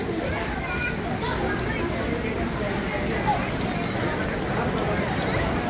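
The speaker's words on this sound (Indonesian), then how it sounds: "Hujan." Steady rain patters and hisses on surfaces nearby in Macau, a dense continuous wash of drops with faint voices mixed in.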